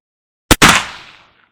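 Two sharp black powder rifle shots fired at a target 150 yards away, a brief crack followed at once by a louder blast whose boom rolls and fades over most of a second, alone with no talk.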